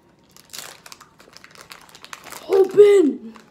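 A foil Pokémon Shining Fates card pack is torn open, with close crinkling and ripping in short bursts, followed by a brief vocal exclamation near the end.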